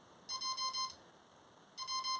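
Model aircraft electronics beeping as the motor is connected: two quiet bursts of rapid high electronic tones, each lasting about half a second, separated by a short pause.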